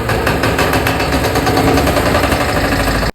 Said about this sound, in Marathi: हे आहे सिंगल सिलेंडर डिझेल इंजिन